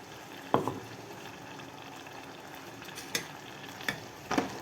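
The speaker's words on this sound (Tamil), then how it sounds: "இந்த தேங்காவை இதில் ஊற்றிடுறோம்" Coconut paste poured into a pan sizzles wetly, with a few sharp scraping stirs, a spoon clinking against the metal at intervals over a steady hiss.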